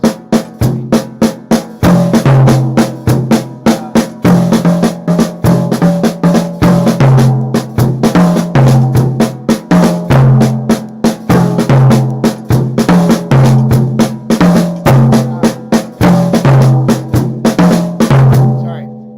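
Drum triplets grouped in fours on a kit, rapid even strokes in continuous loud accented patterns that repeat steadily throughout.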